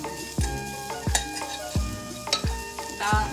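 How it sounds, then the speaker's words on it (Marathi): Raw mango pickle stirred in a pan over low heat, with a spoon scraping and knocking against the metal in a steady rhythm of about eight strokes over a soft sizzle, close up, no talk. "कैरी चांगला मिक्स करून घ्यायचा।"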